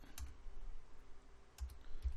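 Quiet key presses on a computer keyboard, a few soft separate taps spread across a couple of seconds, with faint room hush between them.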